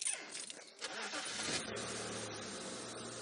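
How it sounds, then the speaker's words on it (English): A safari vehicle engine at a game drive starts up and settles into a steady, fairly quiet idle, heard close with outdoor ambience. "the motor's still going brrr, brrr"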